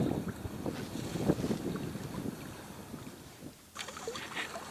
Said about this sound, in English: We got this nasty wind coming up, gusting at me